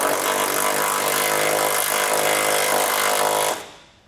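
Power tool with a 17mm socket driving trailer hitch bolts while a Curt receiver goes onto a 2011 Nissan Juke, a loud, steady, close-up whirring buzz that holds evenly before cutting off abruptly.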